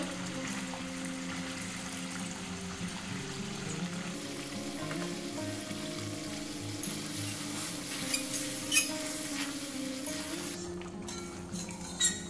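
Masala for Nawabi paneer sautéing in a pan over a very low gas flame: a steady, soft frying sizzle that carries on without pause, with a few light clinks near the end.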